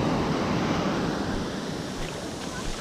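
Ocean surf washes steadily onto a beach, a broad continuous rush of breaking waves that fades slightly partway through, with no voices.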